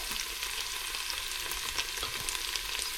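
Rice and chopped spring onions stir-frying for egg fried rice, a steady close sizzle with light scraping of the spatula throughout and no talking.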